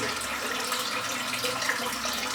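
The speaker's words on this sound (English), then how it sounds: "Just going to rinse off my razor" A tap runs steadily into a sink for a couple of seconds while a razor is rinsed, a soft, even hiss of water close by.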